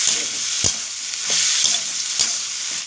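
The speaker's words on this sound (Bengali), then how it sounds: "আদা পেঁয়াজ সেটা দিয়ে দিলাম একটু ভেজে নিই" Ginger and onion fry in a hot pan for chana masala, giving a steady close sizzle broken by a few sharp scrapes of stirring. No voices.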